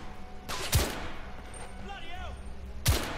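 Gunfire in The Order 1886 video game, two loud close shots about two seconds apart over a steady game background hum, with faint chirping effects between them.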